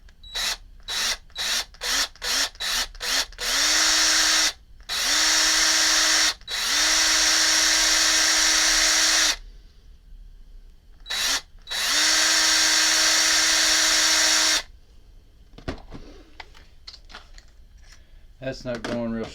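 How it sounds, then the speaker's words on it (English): An electric drill drilling out the flint of a vintage Ronson Crown petrol table lighter whirs in short bursts at first, then in longer runs, loud and close, with pauses and scraping sounds between them. "I'm going to go ahead and hit this with the drill"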